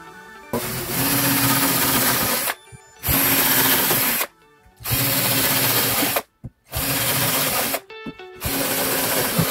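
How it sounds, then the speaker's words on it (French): Power drill driving screws into a wooden logo for a game room, loud steady whirring runs of about two seconds each, separated by brief pauses, with no talking. "Et je vais le visser"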